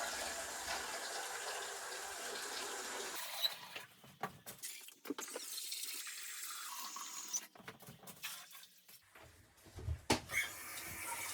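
Water runs from a kitchen tap into a cooking pot for chili, a steady rushing stream that cuts off partway, followed by quieter clatter and splashes as the pot is handled.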